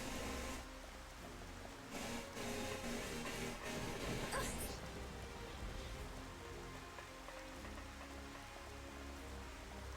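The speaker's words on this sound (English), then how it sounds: "Oh, it's still raining." Steady rain falls throughout a scene in the video game Xenoblade Chronicles Definitive Edition, a dense continuous patter with some music or other game sounds mixed in.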